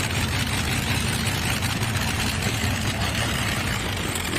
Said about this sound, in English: beautiful sound of one of those Allison aircraft engines